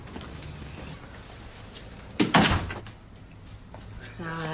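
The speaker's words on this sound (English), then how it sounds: "And close the door." An office door closes with a sharp thud and brief rattle in a police station drama scene, standing out against low room tone, with voices talking nearby.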